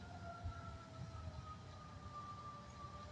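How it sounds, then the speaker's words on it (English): A faint, distant siren wails in a long sliding tone over a low rumbling background, steady and far away. "I never heard that siren before."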